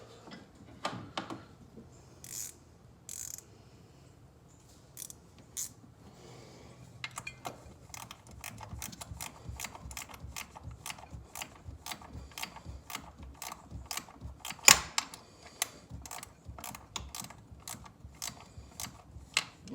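A CAT aftermarket lift pump runs on a Duramax diesel, giving a steady rapid mechanical ticking and whirring that holds through the clip, with a sharper clack near the middle and no talk.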